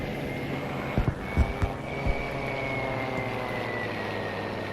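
A P-51 Mustang propeller fighter plane in Battlefield V drones steadily at a distance, its engine hum holding an even pitch, with a few soft thumps early on.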